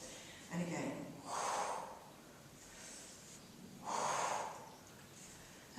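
Several forceful breaths out during an ab workout, spaced a second or two apart, close and fairly quiet, with one short snort-like exhale at the start.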